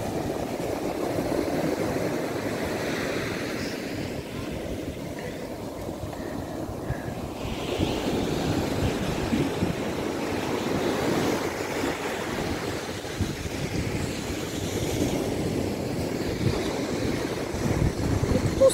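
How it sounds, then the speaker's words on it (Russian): Large ocean waves roll onto a beach at a Dominican Republic resort, a continuous low roar of surf mixed with gusting wind on the microphone, lasting steadily for the whole stretch with no talking. "Все равно большие волны были."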